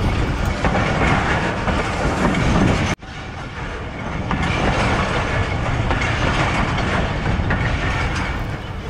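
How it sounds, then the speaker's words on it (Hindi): The 130DN Thal Express rolls along the rails between Rawalpindi and Multan, a loud continuous rumble with rhythmic clickety-clack from the wheels, heard from on board, briefly dipping before resuming steady. "थल की रानी स्लो एंड स्टडी के असूल पर अमल करते हुए अपनी मंजिल की तरफ रवाना है।"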